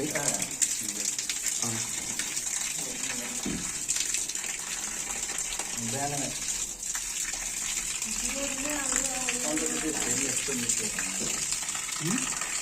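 Water runs steadily from a shower tap in a steady broadband wash, with some faint talking behind it.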